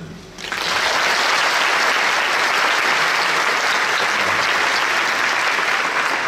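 An audience at a documentary film festival award ceremony breaks into applause, which swells within the first second into sustained, dense clapping from a large crowd that continues evenly to the end.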